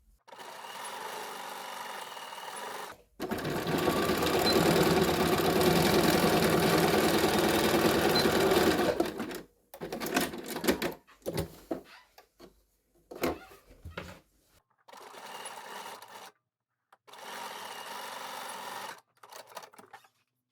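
A sewing machine stitches fabric in a zero-waste beauty set project: a long steady run of close mechanical whirring, then a series of short start-stop bursts with gaps between.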